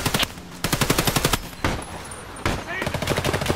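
Rapid automatic gunfire in the shooter game Hired Ops, loud close bursts of machine-gun fire separated by short pauses, with a few sustained volleys.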